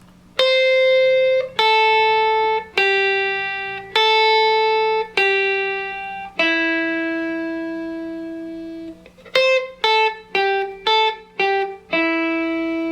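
An electric guitar slowly picks a pentatonic scale sequence of single notes, each note ringing out, then a quicker run of notes near the end.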